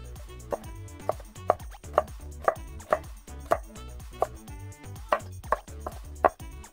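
A knife julienning cucumber chops against a cutting board in a steady series of crisp, close taps, roughly two per second, with quiet music underneath.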